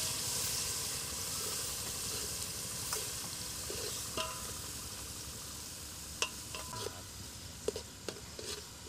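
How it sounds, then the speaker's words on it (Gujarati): Onion fries in hot oil with a continuous broad hiss and sizzle, joined later by a few light clicks and taps of a stirring spoon, steady and close with no talking. "ડુંગળી નખાય, તેલમાં નખાય।"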